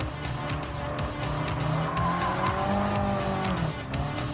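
Race car in Gran Turismo Sport sliding through a turn, a steady engine drone with rising and falling tonal whine and a tire squeal running continuously and loud throughout.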